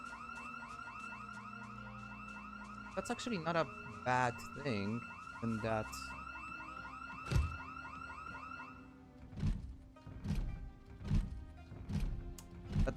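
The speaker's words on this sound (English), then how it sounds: "house alarms being triggered." In the Project Zomboid video game, a house alarm triggered by zombies wails with a steady, pulsing electronic tone at moderate distance while someone talks over it, followed by thumps and scattered impacts.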